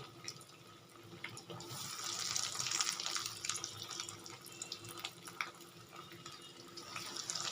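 Egg and potato chops fry in hot oil, giving a soft, steady sizzling hiss that swells and eases slightly throughout.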